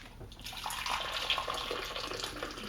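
Hot water pouring into a bowl, a continuous splashing gush that builds and stays steady for a few seconds, close and alone.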